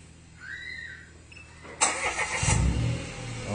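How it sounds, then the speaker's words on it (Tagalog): Car engine starting by voice command: a soft electronic chime, then the starter cranks and the engine catches into a close, steady idle. "Okay, so nag-start yung engine natin."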